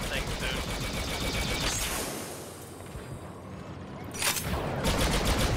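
Dense gunfire and weapon blasts from the Star Wars Battlefront II beta, rapid bursts and whooshes filling the mix continuously and loudly, with a brief lull midway before firing swells again.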